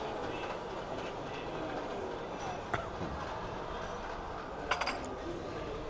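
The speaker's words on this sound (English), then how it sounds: "The train's coming past." A train rolls past on a rail line during a walk on Tenerife, a steady loud rumble with clickety-clack wheel noise and a few metallic clinks near the end.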